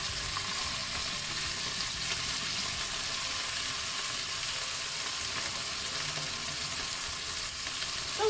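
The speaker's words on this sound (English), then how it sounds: "It's basically just sealing up both sides of the beef." Beef cheek searing in a hot pan, a dense, continuous loud sizzle and crackle that holds steady throughout, close up and with no voices.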